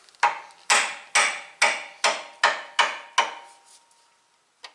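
Seven sharp hammer blows on a metal oil filter of a 2013 Mustang GT in a steady rhythm, each ringing briefly before the next, close and loud, then a faint tap at the end.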